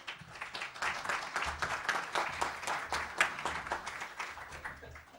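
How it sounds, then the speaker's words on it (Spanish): An audience at a book presentation applauds steadily, a dense patter of many hands clapping at moderate distance, with no talking over it. "Les pido un fuerte aplauso para él."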